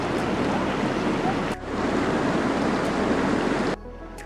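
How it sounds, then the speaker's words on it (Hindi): A river rushes loudly and continuously through the Kinnaur valley in light rain, a dense close wash of flowing water with brief dips before it drops to a quieter hum near the end. "मैंने अब तक इतनी सुंदर नदी इतनी सुंदर एरिया में बहते हुए नहीं देखी थी."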